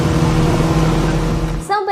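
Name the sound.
speedboat engine roaring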